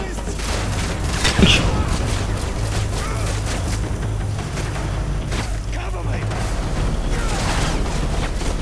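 Explosions and gunfire from the Call of Duty Modern Warfare 3 video game form a dense, continuous roar of battle noise, with one sharper blast standing out early and heavy rumble throughout.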